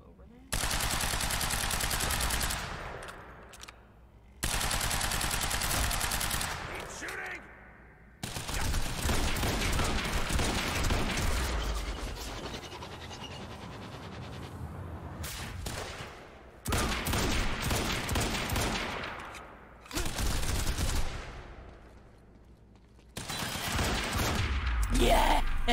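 Loud, close bursts of rapid automatic gunfire in Quantum Break come in long volleys broken by short quiet gaps, over about twenty-five seconds.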